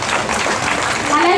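Applause from an audience at a cultural stage event, a dense steady patter of clapping that continues through the whole moment, with voices mixed in underneath.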